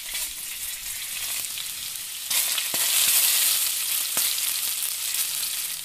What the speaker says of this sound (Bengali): এবার আলুটাকে একটু ভেজে নেব।